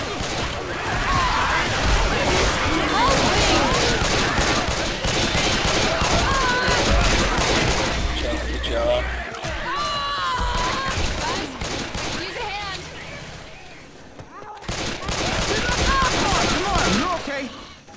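Rapid bursts of gunfire from the Left 4 Dead 2 video game keep up loud and near almost throughout, mixed with players talking and game effects, with a brief quieter gap before the shooting resumes.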